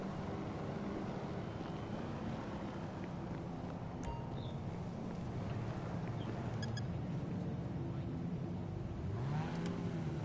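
A car being driven near Mooresville, heard as a steady broadband rumble of engine and road noise that holds at an even level throughout, with no talking.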